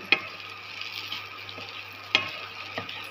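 Bread pieces being stirred into eggs in a frying pan for bread masala, a spoon scraping and mixing in a few distinct strokes over a soft steady sizzle, close and moderately quiet.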